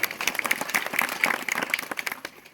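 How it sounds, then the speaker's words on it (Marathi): An audience at a devotional kirtan gathering breaks into applause, a fairly faint, dense patter of many hands clapping that gradually thins toward the end. "एकदा सगळ्यांनी तुमच्यासाठी जोरदार टाळ्या वाजवा"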